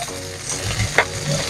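Onions and green chillies frying in a pan, giving a brief, close, quiet sizzle with a light clink partway through and no speech.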